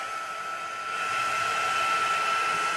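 Steady whirring blow of a hair dryer or heat tool drying gilding-polished black card, a constant airy hum with a clear tone that grows slightly louder partway through, and nobody speaking.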